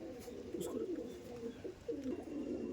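Andhra Madrasi pigeons coo close by in a steady run of low, warbling, rolling calls that keep going without pause, with faint background noise and no voices.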